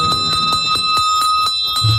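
A bell on a rock radio station rings in a quick, regular series of about eight bright, loud metallic strikes, each with a short ringing tail, alone without talk.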